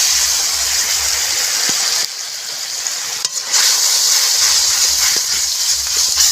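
Coconut paste frying in a pan for a pointed gourd curry, a loud steady sizzle and hiss with occasional stirring scrapes, briefly dipping once before resuming.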